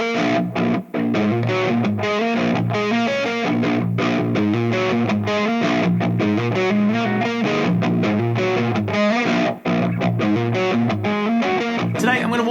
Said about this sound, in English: scene 4 is a real light crunch channel with a little bit of reverb on it